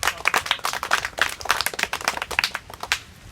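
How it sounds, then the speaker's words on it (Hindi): Children clap together in a village community outreach session in Hafizpur, Azamgarh, a loud burst of uneven, rapid hand claps close by, with no talking over it. "सर के लिए ताली बजा दो एक जोरदार"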